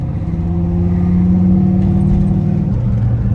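A turbocharged Camaro's engine drones steadily while the car is driven around a neighborhood, a loud continuous mid-pitched hum with slight rises in revs throughout, no talking.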